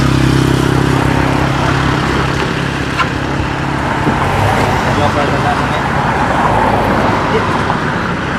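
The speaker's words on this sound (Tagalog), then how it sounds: "may mga sasakyan dito, hindi nawawala ng mga sasakyan dito na dumadaan kasi bypass" Vehicles pass along a roadside bypass in a loud, continuous roadway rumble with engine drones rising and fading, while a voice speaks over the traffic.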